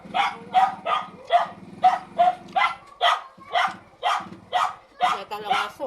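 A dog barks over and over in a quick, steady rhythm, sharp repeated yaps close by with little pause between them.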